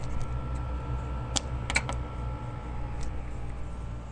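Steady low fan hum from an Amana PTAC air conditioner running in constant fan mode, a continuous mechanical drone with a few faint clicks over it.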